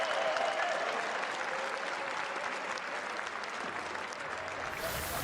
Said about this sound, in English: Give a round of applause for the local hometown heroes for Hearthstone Global Games.